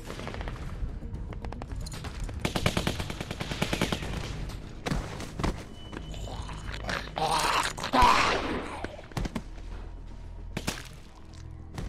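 Rapid bursts of AK-47 automatic gunfire crackle in quick succession in the video game The Walking Dead Season 2, followed by scattered single shots and a whooshing explosion, all fairly close.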